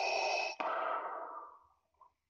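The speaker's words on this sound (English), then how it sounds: "when TRamp starts up in Vader mode, the breathing comes on automatically" Darth Vader mechanical breathing effect from voice-changer software, a loud hissing inhale then a long exhale that fades away, followed by a brief faint sound.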